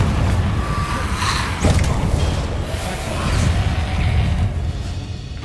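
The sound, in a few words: Confringo spell cast, video game Hogwarts Legacy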